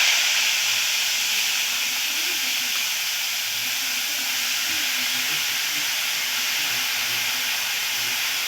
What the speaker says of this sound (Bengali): কেটে ধুয়ে রাখা বাঁধাকপি কুচি কুচি করে দিয়ে দেবো।